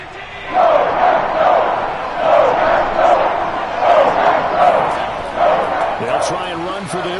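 A football stadium crowd in a Madden video game roars steadily in swelling waves while a commentator talks over it.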